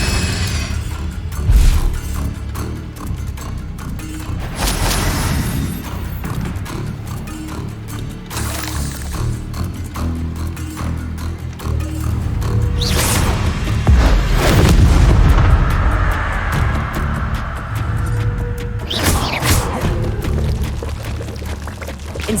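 Incendio fire spells cast in the Hogwarts Legacy video game, roaring, whooshing blasts and booms over a rumbling game backdrop, several loud bursts around the middle and another near the end.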